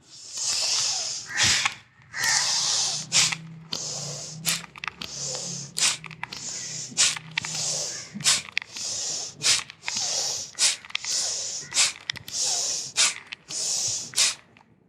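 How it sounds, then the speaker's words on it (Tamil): Forceful rhythmic breathing during a yoga exercise, with sharp nasal exhalations and inhalations in a steady series of close, hissy bursts that repeat without pause. "forceful inhalation, forceful exhalation"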